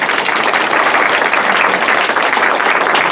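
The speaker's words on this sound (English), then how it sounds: "Now give a round of applause for real" A loud, dense round of audience applause, many hands clapping continuously and evenly throughout, close and full, with no voices rising above it.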